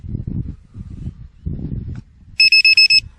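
A drone battery voltage checker plugged into a sprayer drone battery gives a quick series of four high electronic beeps, loud and close, after a stretch of low rustling and handling noise.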